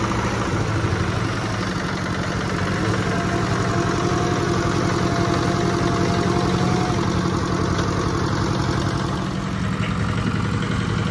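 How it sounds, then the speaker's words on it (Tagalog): A Yanmar 70 bearing-type engine on a surplus Japanese tiller runs steadily close by, a loud, even chugging drone with no break. "Napakaganda naman ang andar ng makina na yan."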